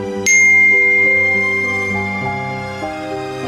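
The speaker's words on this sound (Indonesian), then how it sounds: "Akhirnya, ponselnya berbunyi." Phone notification sound, a bright sustained chime with a sharp onset followed by a lingering ringing tone of layered harmonic notes that fades slowly, heard on its own.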